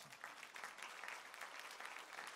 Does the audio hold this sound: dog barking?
no